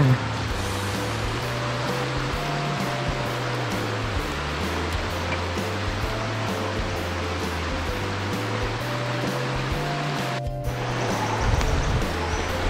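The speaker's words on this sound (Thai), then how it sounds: "น้ำที่ไหลมาจากน้ำตกของลังเจ้าค่ะ" Stream water from Khlong Wang Chao waterfall in Khlong Wang Chao National Park, Kamphaeng Phet, Thailand, rushes steadily at a swimming spot. The wash is close, continuous and fairly loud, with a brief dip near the end.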